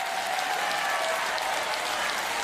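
Sustained applause from a large crowd fills an indoor arena at a Paralympic goalball match in the South Paris Arena, a steady dense clapping wash that echoes around the venue with no talk over it.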